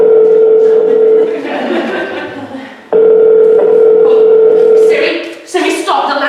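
A smartphone dial tone sounds as a call is placed to someone's mother, a steady tone broken once midway and then resumed, with talk and other noises around it.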